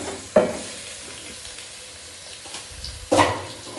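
Chicken and onions frying in hot ghee, with a low sizzle throughout and two sharp bursts of louder crackle, one near the start and one near the end, as pieces hit the pan or get stirred.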